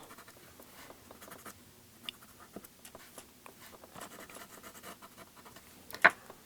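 Pens coloring paper dolls, quiet close-up scratching and rubbing strokes in short irregular bursts, with one sharper tap near the end.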